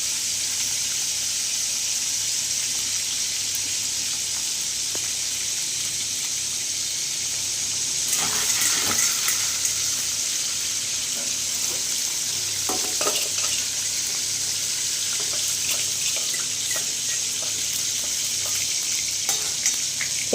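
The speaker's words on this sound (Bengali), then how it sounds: "পনিরটা আমার লাল লাল করে ভাজা হয়ে গেছে।" Paneer fries in hot oil with a continuous close sizzle, growing busier and crackling midway with a few utensil scrapes, alone without talk.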